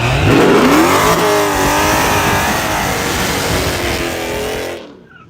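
A Mustang-bodied RC car revs hard and close with a buzzing, high-pitched whine that rises and falls through several pitch sweeps, then abruptly cuts off near the end.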